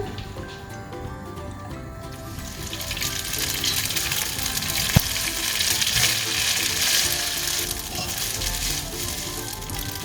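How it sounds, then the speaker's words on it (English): Cooked pasta is tipped into a pan of frying bacon for carbonara, bringing a loud wet sizzle that swells and stays strong, with a brief knock midway and rustling stirring sounds. "I'm gonna put in our pasta with the bacon"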